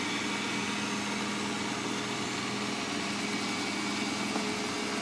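A Eureka J15 Pro Ultra robot vacuum dock washing its mops gives off a steady, continuous whirring hum that stays constant throughout, close and moderately loud.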